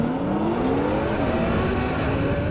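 Ferrari and Nissan GTR drag racing side by side, loud engines roaring continuously as they accelerate hard together, with rising engine pitch through the gears and no voices.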